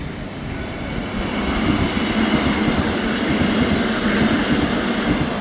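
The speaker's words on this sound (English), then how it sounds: "Let's take a look at this REM train coming." An REM light rail train arrives at Côte-de-Liesse station, its steady rumble and rolling wheel noise swelling and holding loud and close over several seconds.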